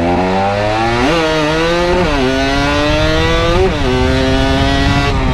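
Cagiva Mito 125 motorcycle engine while riding, a loud, close two-stroke whine rising and falling through several gear changes, steady and continuous with no talk.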